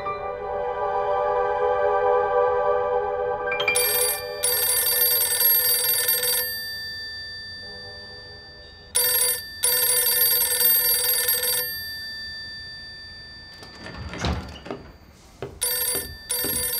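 An indoor telephone rings in three separate bursts of loud, shrill electronic ringing, with quiet gaps between them and a few soft knocks near the end, heard in a tense spy drama scene without speech.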